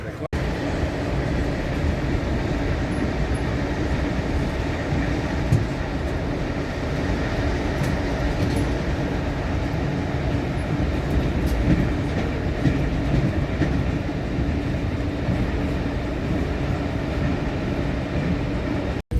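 Steady rumbling of a long-distance train in Russia in motion, heard from inside a carriage, with faint rhythmic clacking of wheels over rail joints throughout.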